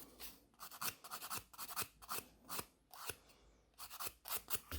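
A nail file rasps against hard acrylic nails in quick, uneven bursts of scratchy strokes, close and fairly quiet, with short pauses between groups of strokes.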